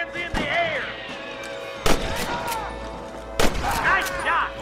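Three loud, sharp gunshots about a second and a half apart in a Red Dead Redemption shootout, each ringing out with echo, while voices call out between the shots.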